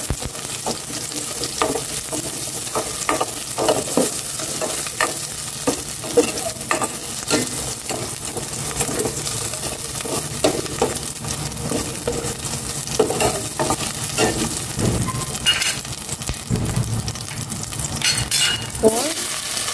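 Onions and pork sautéing in a pan, with a long, steady sizzle broken by repeated stirring scrapes and the occasional clink of utensil on pan, close and continuous with no talk.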